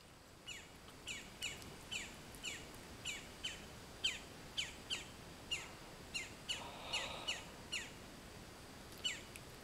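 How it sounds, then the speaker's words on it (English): A bird calls repeatedly outdoors, sharp chirping notes in a steady rhythm, moderately loud over a quiet background hiss. "What bird is that out there ranting,"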